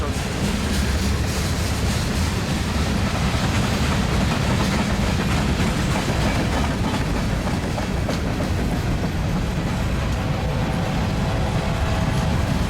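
A long BNSF grain freight train rumbles past close by, loud and continuous, with rolling wheel noise and faint clickety-clack rhythm over a heavy low roar.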